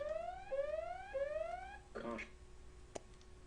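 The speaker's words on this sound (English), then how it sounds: "Okay, sorry about that alarm." Electronic alarm beeping in a rising, repeating pattern of tones, a few cycles at moderate volume in a quiet room, followed by a short burst of speech and a single click.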